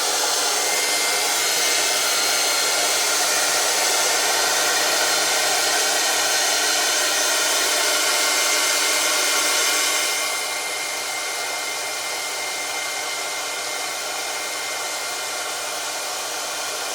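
A hair dryer blows steadily and loudly up close as part of a boar bristle treatment experiment, a constant broadband roar that drops slightly in level about two-thirds of the way through, with no voices.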